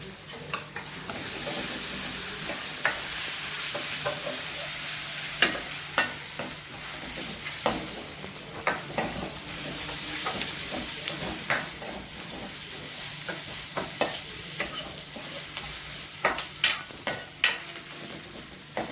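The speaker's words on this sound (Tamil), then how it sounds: "வெங்காயம் இப்படி வதங்கினா போதும்" Onions sauté in a hot pan under a continuous sizzle, while a spoon scrapes and knocks against the pan in irregular, fairly loud strokes throughout.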